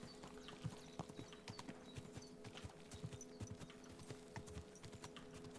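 A horse trotting in Kingdom Come Deliverance 2, steady rhythmic clip-clop hoofbeats on the ground, continuous and fairly close, with a quiet game ambience beneath and no talk.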